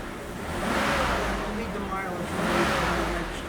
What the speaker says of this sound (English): listen to the engine, how good it works, how smooth it works